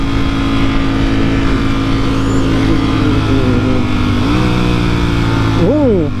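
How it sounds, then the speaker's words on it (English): A Porsche engine drones steadily in a video game, holding a sustained tone with a brief pitch rise near the end, while a voice talks over it. "This thing's a Porsche."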